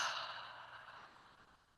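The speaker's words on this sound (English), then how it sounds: "So we'll be doing a connected breathing today." A single long, soft exhale of breath during a connected breathing exercise, airy and close, trailing off gradually with no talking.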